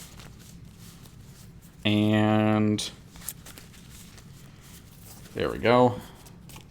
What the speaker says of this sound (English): Shuffle up just a little bit.